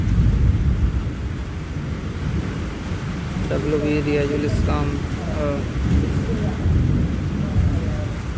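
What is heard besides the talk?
thunder and rain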